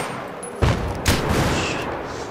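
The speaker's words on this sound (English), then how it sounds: "bullets are coming from this angle" Gunfire in Battlefield 3 during a team deathmatch: loud bursts of rifle shots and booming impacts over a steady rumbling battlefield din, with sharp cracks striking near.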